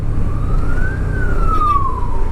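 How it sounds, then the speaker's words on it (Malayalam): An ambulance siren wails steadily, its pitch sweeping up then down, heard over the low rumble of road and engine noise from a moving vehicle. "അയ്യോ ആംബുലൻസ് ആണല്ലോ"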